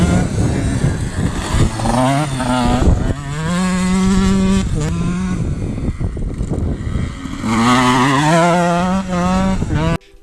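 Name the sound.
KTM 125 EXC enduro motorcycle cornering and accelerating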